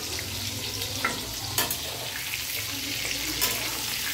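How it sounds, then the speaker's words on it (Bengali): Pointed gourd (potol) pieces frying in oil in a pan, a steady close sizzle with occasional sharper crackles and stirring clicks, no voices. "পটলগুলো ভেজে নিয়ে"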